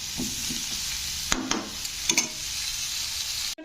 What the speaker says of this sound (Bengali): এইভাবে এঁচোড়টা একটু লাল লাল করে তোমরা ভেজে নেবে